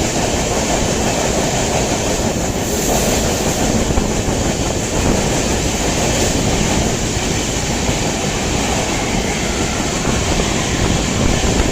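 A train running through a tunnel on the Mumbai to Lonavala route roars loudly and steadily, its dense rumble and rattling wheels filling the clip without a break, with no voices.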